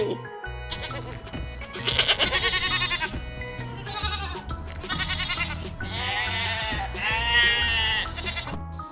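Repeated high, wavering bleats, several in succession, over a steady musical backing track in a Bengali children's alphabet rhyme; could be a voice imitating young goats.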